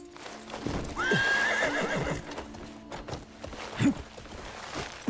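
Horse hooves clip-clop in a video game while a horse whinnies once with a rising squeal, the footfalls continuing in an uneven rhythm at moderate volume with no talk.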